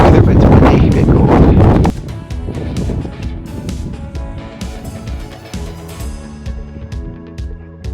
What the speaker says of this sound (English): It's nice weather, but it's windy, a bit cold.